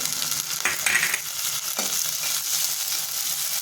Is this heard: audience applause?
no